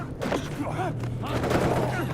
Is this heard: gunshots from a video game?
yes